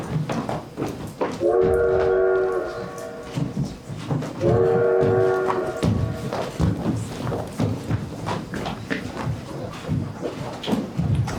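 A train rumbles along the rails with steady clanking and thuds, and two long horn blasts sound close by near the start.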